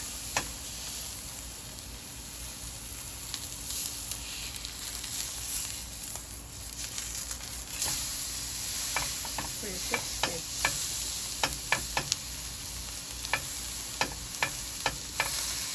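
Steak searing in a hot pan at home: a faint, steady sizzle with scattered sharp pops and crackles growing more frequent toward the end, heard close with no talking.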